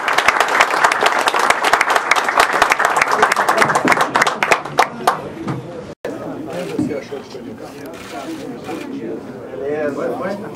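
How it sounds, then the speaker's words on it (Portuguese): Audience applause closing a debate event, loud dense clapping that builds and then fades after about five seconds into crowd chatter and people talking. "além de mais uma salva de palmas para encerrar"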